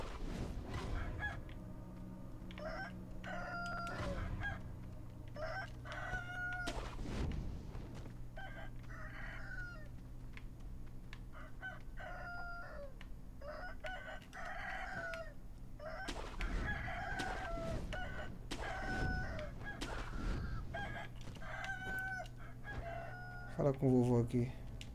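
A rooster crows and clucks repeatedly in the video game Sekiro, its loud squawking calls mixed with combat noise while players talk over it.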